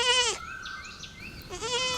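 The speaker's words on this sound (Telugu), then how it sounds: "ఈ గొర్రె పిల్లకి కేకలు ఎక్కువ అవుతున్నాయిరా" A young lamb bleats loudly and close by, two wavering cries separated by a short quieter gap.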